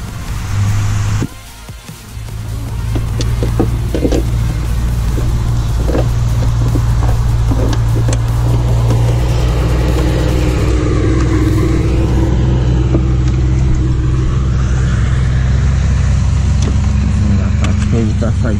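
A truck engine racing with a stuck accelerator, a loud sustained high-revving drone that briefly dips then holds steady near the microphone, with a voice talking over it.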